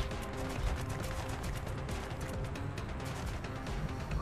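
Continuous rapid gunfire from soldiers in the video game XCom: Enemy Unknown, a dense unbroken barrage of overlapping shots and impacts, loud and steady throughout with no pauses.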